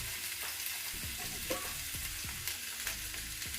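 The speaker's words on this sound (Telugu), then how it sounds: "ఈ టమాటా ముక్కలన్నీ కూడా మెత్తపడే వరకు వేయించుకోవాలి." Chopped tomato pieces frying in oil in a pan, a continuous close sizzle with soft bubbling, a few brief spatula scrapes and light knocks, no voices.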